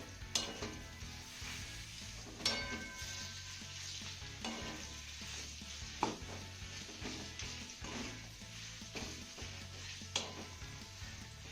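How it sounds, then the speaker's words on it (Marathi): Finely chopped figs sautéing in ghee in a pan, a quiet continuous sizzle punctuated every couple of seconds by scraping stirs of a spoon, heard close with no speech. "बारीक चिरलेले तीस ग्रॅम अंजीर यामध्ये घालायचे आता ही ना आपल्याला चांगली मऊ होईपर्यंत परतून घ्यायची आहे"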